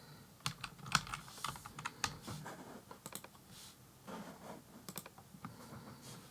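Someone types a password on a computer keyboard, a run of quiet, close key clicks in an irregular rhythm with no talking.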